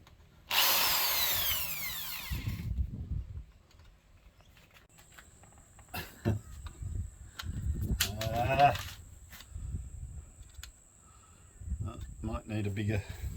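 A power drill bores through a metal bus panel on a Mitsubishi Rosa bus for curtain fittings, a loud high-pitched burst near the start, followed by quieter handling noises and talk.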